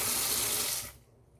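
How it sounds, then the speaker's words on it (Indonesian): Cold tap water running over papaya leaves in a sink, a steady close splashing rush that cuts off abruptly near the end. "Lalu kita siram dengan air biasa atau air dingin ya, untuk menjaga agar warnanya tetap hijau."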